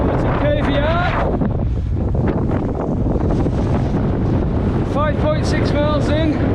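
Strong wind roars and buffets the microphone in a constant low rumble while a person speaks over it on the summit of Pavey Ark, a Lake District fell, in January.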